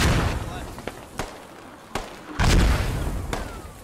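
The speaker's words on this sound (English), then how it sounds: "Mortars pinning some British troops into buildings." Mortar rounds explode in the video game Squad as British troops are pinned in buildings: five or six heavy booms spread over a few seconds, the loudest a sustained blast midway, with voices in the background.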